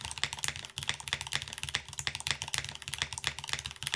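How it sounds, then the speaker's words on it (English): Typing on an AK75 mechanical keyboard with an aluminum plate gives a rapid, uneven stream of crisp key clacks, close and fairly quiet, with no one speaking. "The keyboard doesn't sound bad though."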